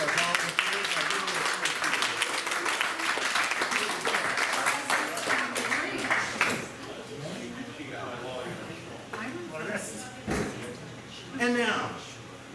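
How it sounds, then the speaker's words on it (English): Applause from a magic show audience for volunteers swells briefly in the first half, then fades as someone talks over the end. "Please, a round of applause for our volunteers."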